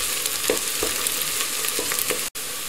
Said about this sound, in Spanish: metemos dentro ajo que picamos y movemos un poquito